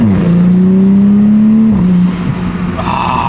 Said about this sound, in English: RK titanium exhaust just makes it sound so good